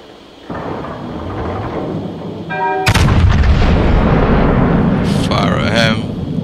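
Warship naval guns firing shells in World of Warships: deep booming artillery blasts and a heavy rumbling salvo, loud and close, mixed with game effects and a voice speaking over it.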